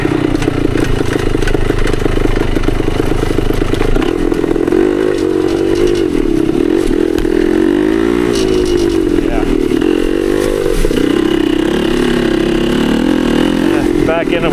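A 1972 Yamaha DT2 enduro motorcycle ridden in second gear on a rough trail, its engine loud and close throughout, droning steadily with pitch swelling and dipping as the throttle changes, with wind buffeting.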